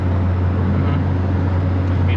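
A turbocharged Honda Jazz GK on a dyno holds a steady, loud engine drone at constant throttle, the continuous hum staying level and unbroken throughout.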